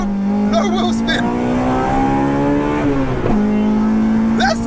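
Honda DC2 Integra Type R pulling away hard in first gear, a loud steady engine drone climbing in pitch, briefly dipping at a shift-like break and resuming, with a voice speaking over it at the start and end.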